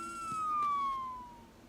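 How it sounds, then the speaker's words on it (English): A fire truck siren wails in one long, smoothly falling tone, loud and clear with nothing else heard. "The siren screamed and the lights flashed."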